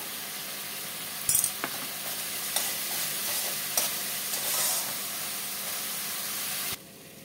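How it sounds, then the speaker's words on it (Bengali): A spice paste of cumin, coriander powder and green chili paste is stir-fried in a pan, giving a soft steady sizzle with scattered scrapes and taps of a spatula, ending abruptly. "আমার মশলা কষানো হয়ে গেছে"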